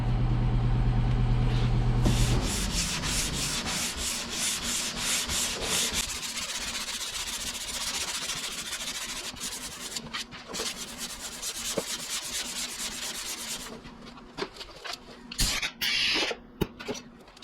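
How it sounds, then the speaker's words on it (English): Steady, rhythmic rasping of a sanding block scrubbing back and forth across a Dodge car door panel, close up and continuous, with a few sharp knocks near the end. "I'll show you with the sanding block"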